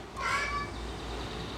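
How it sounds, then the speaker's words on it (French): A house cat gives one short, clear meow, close by and fairly loud over a low background hum, then the room goes quiet. "Petit chant d'un de mes chats."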